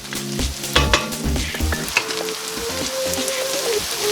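Chopped onions sweat in a hot pan as the base for a beef pot roast, giving a steady close sizzle with a few clattering stirs near the start and no talking.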